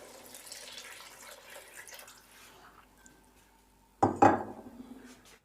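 Water is poured into a cooking pot to make matar aloo pulao. After a few seconds of quiet kitchen clinks, a short, close, splashing pour bursts in and lasts about a second.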